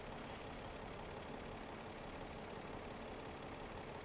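A farm tractor engine idles steadily during refuelling in Farming Simulator 17, a constant low, even rumble with no voices over it.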